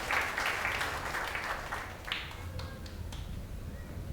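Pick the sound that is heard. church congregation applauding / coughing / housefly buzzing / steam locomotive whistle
church congregation applauding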